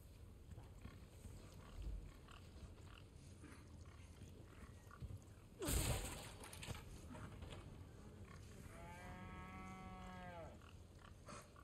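Cow in Resident Evil 4 Remake lets out a faint, short, nasal low moo near the end, preceded by a soft thump and a brief whooshing burst over a quiet ambient background.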